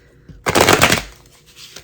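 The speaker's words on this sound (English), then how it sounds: "Why am I shuffling these?" A deck of tarot cards is riffled once in a quick, crisp burst of papery flutter lasting about half a second, close up, then fades to quiet handling.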